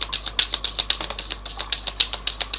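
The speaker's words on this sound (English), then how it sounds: "I want another shuffle for Monica." Rapid riffle of tarot cards being shuffled, a dense run of crisp papery flicks repeating close and clear without any talk.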